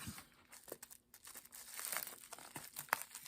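Packaging from an unboxing of purchased items and prizes being cut open and pulled apart, with repeated close crinkling and tearing bursts and a sharp rip near the end, no talking.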